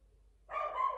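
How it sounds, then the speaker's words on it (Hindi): Dogs barking outdoors at night, heard at a distance after a quiet start, a short burst of barking in the latter half. "पर कुत्ते भौंक रहे बाहर"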